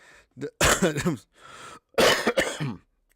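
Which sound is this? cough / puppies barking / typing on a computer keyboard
cough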